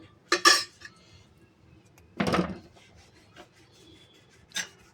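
A semiya sweet with cardamom powder and dry fruits is stirred in a pan in a few brief, separate scrapes and rubs, quiet between strokes.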